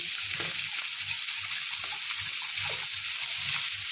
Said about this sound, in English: You just keep on stirring this.